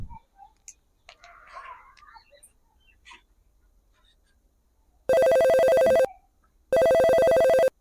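A telephone rings in two loud, bright electronic bursts of about a second each, separated by a short gap, after several seconds of faint rustles and quiet murmuring.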